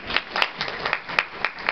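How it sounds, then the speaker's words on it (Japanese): An audience at a lunchtime piano mini-concert claps to welcome a pianist and a violinist, with distinct hand claps standing out over softer, scattered clapping in a modest, moderately quiet hall. "大きな拍手でお迎えください。"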